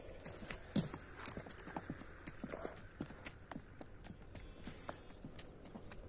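A horse being led at a walk, its hooves clip-clopping in an uneven, steady rhythm of sharp hits, with faint talk in the background.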